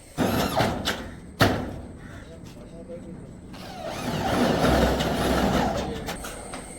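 Roofing sheets are nailed onto a house roof during low-budget roof work in Kerala, giving a few sharp metallic knocks and thuds amid a rumbling background, with people talking nearby.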